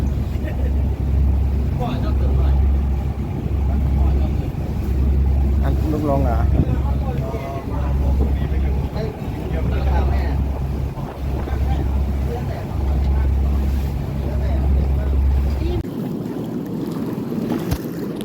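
A boat engine throbs in a steady, pulsing rhythm while riding aboard, with wind buffeting the microphone and people talking over it.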